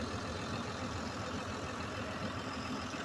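A 200-horsepower Case tractor engine runs steadily during potato harvest, a low, even rumble held close and unbroken without any talk.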